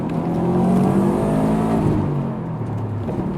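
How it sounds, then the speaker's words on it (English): A 2008 Subaru WRX STI with a turbocharged engine accelerates hard, its engine note climbing steadily in pitch as it revs up, loud and close with no talking. "it's a really fun car to drive when you step on the gas"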